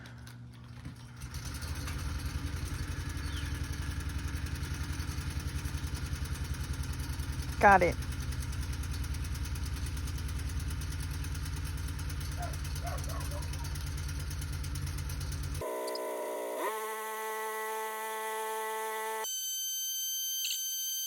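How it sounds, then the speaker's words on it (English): A pull-start portable generator engine is running steadily with a loud idling drone and buzz for about fifteen seconds before cutting off abruptly; a person speaks briefly and electronic tones follow. "I'm going to attempt to start this generator."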